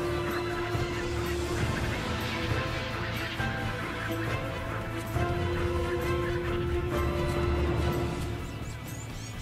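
Wild birds call in the African savanna, a dense chorus of honking, fowl-like cries carrying steadily over outdoor ambience for the full stretch.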